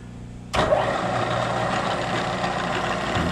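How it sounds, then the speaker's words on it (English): Super Max milling machine motor spinning up abruptly to drill a hole in a rear spring mount for a 1940 rat rod truck, a loud steady broadband whir holding for about three seconds with no talk. "All right, we're all set up on the milling machine, Super Max,"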